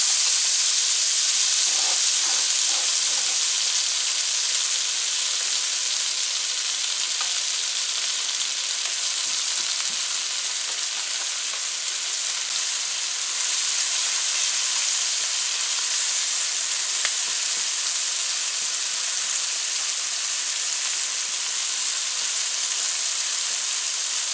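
Onions frying in a pan for yellow turmeric rice, a loud, dense, steady sizzling hiss that fills the whole stretch with only faint stirring scrapes underneath, no talking.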